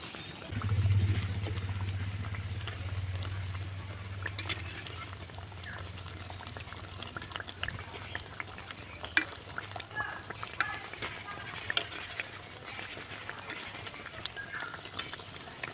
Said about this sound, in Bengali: ছানা জিলাপিগুলো আমি ধীরে আঁচে সময় নিয়ে ভেজে নিয়েছি